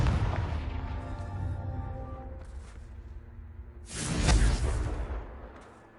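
A Confringo blasting spell from Hogwarts Legacy lands as one sharp, booming burst after a quieter stretch of low rumble, then fades away.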